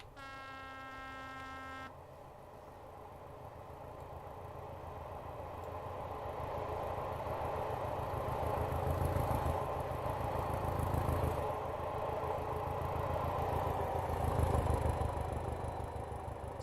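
A simulated 8-coach diesel passenger train sweeps past Preston Park in Train Simulator Classic, a steady engine rumble and hum that slowly builds and swells, loudest near the middle and end, with a brief high tone at the start.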